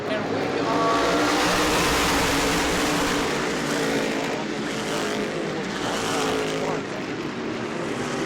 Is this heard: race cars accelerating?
yes